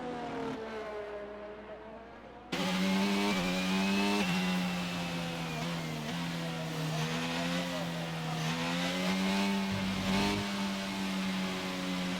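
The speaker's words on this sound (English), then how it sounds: "Mercedes AMG now coming back onto an outlap here" A Mercedes AMG race car in a racing video game heads out onto the track, its engine revving loud and steady with rising and falling pitch as it accelerates and shifts, under a commentator's voice.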